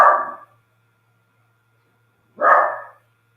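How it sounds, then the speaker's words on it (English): A dog barks twice, two loud, separate barks close to the mic about two seconds apart, with silence between them. "Stop barking."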